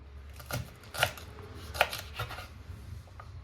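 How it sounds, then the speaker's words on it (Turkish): A knife cutting green beans into medium pieces on a board, a few soft, irregular taps and thuds, quiet and close, with faint low background hum. "fasulyelerimizi de şöyle çok küçük olmayacak şekilde şu şekilde doğruyoruz"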